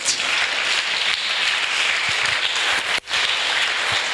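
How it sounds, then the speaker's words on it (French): A church congregation claps together in sustained, dense applause that fills the room evenly, with a brief dip near the end before the clapping swells back up. "On acclame le Seigneur Jésus-Christ."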